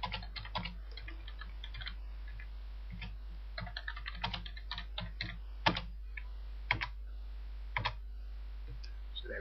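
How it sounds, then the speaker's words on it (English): Typing on a computer keyboard, steady bursts of soft key clicks with short pauses and a few sharper, louder keystrokes, close up over a constant low hum. "I'm going to start typing."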